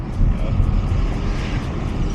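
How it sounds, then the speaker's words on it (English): A loud, steady Shelby GT350 flat-plane-crank V8 engine roar with a rough, rhythmic pulsing drone, heard up close and continuous throughout. "It sounds like a Mustang with a little like extra flat plane crank noise"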